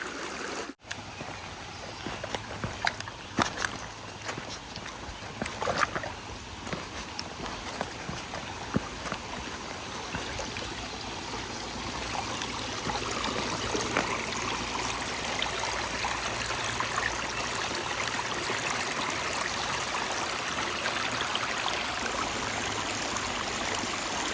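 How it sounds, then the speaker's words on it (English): Fast, deep water of a wide stream crossing on the Appalachian Trail in New York, a steady broadband rush that builds and swells toward the end, with scattered splashes and knocks from footsteps near the start. "The amount of water that is still running."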